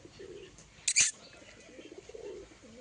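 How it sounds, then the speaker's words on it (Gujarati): Pigeons being fed peanuts take off with a short, loud burst of wing flaps close by, followed by faint ambient noise and soft background voices. "સિંગ ખાતા ખાતા કબૂતર આપણા ઉડવા માંડ્યા"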